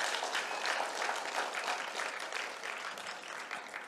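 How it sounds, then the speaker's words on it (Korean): Applause from a church congregation, praising children who answer amen well, with steady crowded clapping that carries evenly through the whole stretch, moderately loud and a little distant in the hall, with no voices over it. "박수 한번 해주세요."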